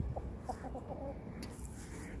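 Hens in a backyard coop cluck in short, repeated bursts at close range as the door opens, with a low steady background rumble and no speech.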